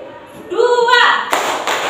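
Schoolchildren in a classroom chant a count, then clap together in a couple of sharp, close bursts.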